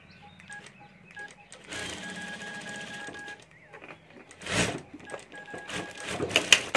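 A sewing machine stitching around the edges of a homemade fabric lunch box, with short bursts of rapid mechanical whirring broken by pauses, quiet and close, with fabric handling noises between runs.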